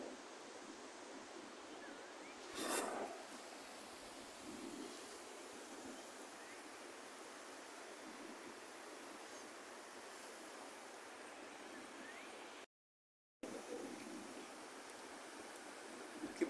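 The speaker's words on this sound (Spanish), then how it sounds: "esta es una de las crecientes" Steady, loud rushing of the flooding Ostúa River fills the scene continuously, a broad roar of swollen water, with a brief cut to silence near the end.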